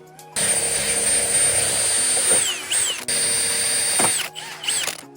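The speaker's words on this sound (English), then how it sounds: "I'm just gonna start with a small metal bit to get the initial hole started." Loud, high-pitched whine of a power drill boring into the metal body of a 2011 Honda Element with a small bit, running in several bursts with short pauses and pitch dips as the bit bites.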